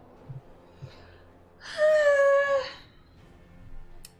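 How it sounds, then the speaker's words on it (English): Enemy dogs in a video game let out a single loud, drawn-out howl lasting about a second. Faint scattered sounds come before and after it. "I have such a hard time telling if these are like enemy dogs or not"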